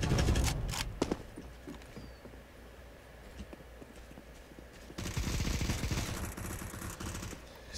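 CS:GO gunfire sounds as a burst of sharp rapid shots at the start, then scattered faint pops and patter. Heavier rattling fire returns midway and continues to the end, with no talk.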